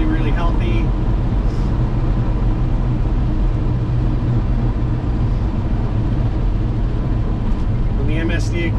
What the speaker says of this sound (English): It's got a really nice mild chop to it, so I would imagine it's got a little bit of a cam